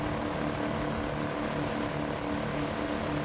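Steady propeller aircraft engine drone in DayZ, a loud, continuous mechanical hum holding constant throughout with no voices over it.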